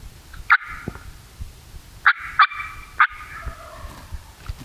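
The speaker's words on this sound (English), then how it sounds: "I'll make a call, see if he gobbles." Wild turkey gobbler answers a call with several loud rattling gobbles out in the Black Hills on public land, fairly near, in bursts separated by quiet, amid soft background ambience.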